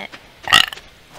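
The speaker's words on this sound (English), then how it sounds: "Yeah, I burped on stream." A single short, loud burp from a man, alone with no talk over it.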